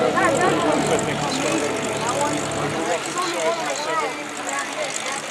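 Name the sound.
Lockheed C-5 Galaxy aircraft flying at airshow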